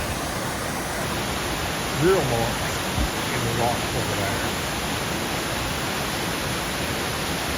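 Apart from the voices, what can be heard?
man-made waterfall, Triple Falls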